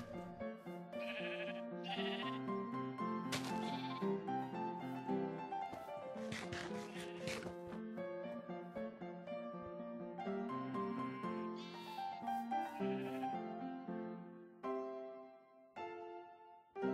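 Sheep in a video game pen bleat again and again in overlapping, wavering calls, loud and close, with several animals joining in through the whole stretch.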